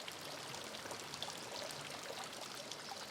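Water flowing steadily along a falaj irrigation channel through an old village in Oman, a soft continuous trickling and gurgling stream heard close by and fairly quiet, with no voices.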